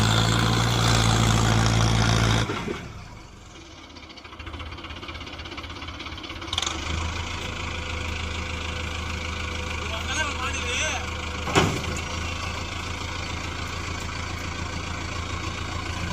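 A bulldozer with over 3000 hours on it idles on farmland, a steady low diesel rumble that is louder at first, then settles softer with a couple of brief metallic clanks.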